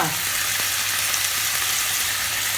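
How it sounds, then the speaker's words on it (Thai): Chicken and vegetables stir-fry in a wok over raised heat for a Thai spicy stir-fry with cumin leaves, a loud, continuous close sizzle with faint stirring, with no voice over it. "ใส่ผักลงไปค่ะ เร่งไฟนิดนึงนะคะ ผัดแป๊บเดียวค่ะ"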